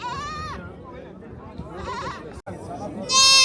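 Milk goats bleating in Burundi, several loud, wavering calls close by, separated by short gaps and a brief dropout, with faint chatter of people in the background.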